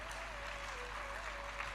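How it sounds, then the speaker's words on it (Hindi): A seated audience at a devotional religious discourse claps together in one short, continuous burst of applause, fairly soft and distant. "ताली बजाने का मन करे जोर से बजाओ,"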